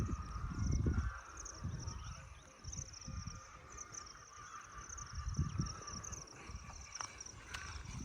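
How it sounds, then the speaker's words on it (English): Chickens on a poultry farm in Ghana, a dense chorus of clucking and calls heard from a distance over outdoor ambience with light ground noise, faint but continuous. "Can you guys hear the chickens?"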